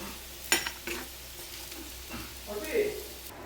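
Fried eggplant being stirred into a simmering hilsa fish curry with potatoes: a soft spoon clatter against the pot, a couple of faint scraping stirs and a quiet sizzle, close by and without talk.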